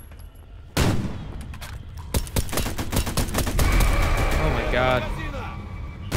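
Bursts of gunfire in the video game Raid on the Chernobyl NPP, rapid volleys and sharp shots crackling loudly over a few seconds, with a player exclaiming over the shooting.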